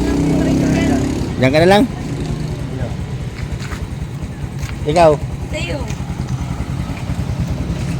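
A nearby motorcycle engine runs with a steady, pulsing putter throughout, while people talk close by over the engine noise.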